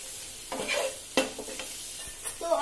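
A spatula stirs salted food around a frying pan, making a few sharp scrapes and knocks over a soft background sizzle, close and moderately quiet, with no talking.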